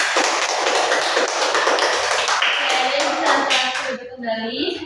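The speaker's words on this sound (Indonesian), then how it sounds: "kita beri close tepuk tangan saja." Elementary school pupils in a classroom clap their hands together in a dense, loud burst of rapid clapping that tapers off near the end as voices begin to come through.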